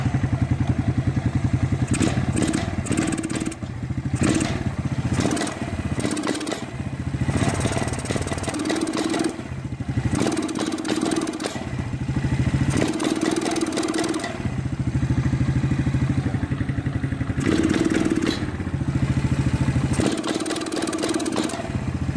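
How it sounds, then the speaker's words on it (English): A Quadrunner 250 ATV engine runs steadily and loud throughout, idling with a clattering mid-pitched drone that swells in repeated bursts as the throttle is blipped, each rise faltering and stuttering before settling back to idle. "it runs very, very well at idle. However, when you go to transition from idle to about a quarter throttle, it dies."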